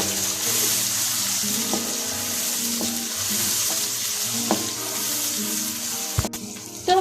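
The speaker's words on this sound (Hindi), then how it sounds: "अब हम इसमें टमाटर और हस्बे ज़रूरत हरी मिर्च डाल देते हैं और इसको अच्छे तरीके से मिक्स कर लें।" Chopped tomatoes and green chillies fry in a pan of mixed vegetables and are stirred. A loud, continuous sizzle runs throughout, with soft spoon taps and a brief clatter near the end, and no one speaks.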